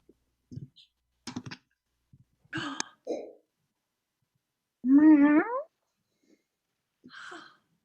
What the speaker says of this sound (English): It is the most magnificent cat.